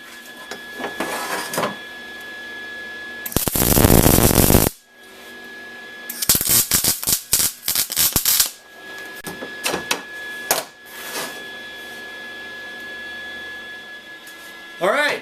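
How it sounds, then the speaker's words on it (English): Welding tacks on the axles of a homemade steel log lever, with loud bursts of broadband arc crackle and sizzle in short runs, one long weld near the start and several quick stuttering tacks after it, over a steady background hum. "we're going to line up and weld off our axles."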